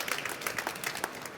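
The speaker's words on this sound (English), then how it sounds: "Give this gentleman a round of applause" Brief applause from a small audience for a guest at a Tonga-focused event. A short patter of individual claps sounds moderately close and fairly quiet, with no voices over it.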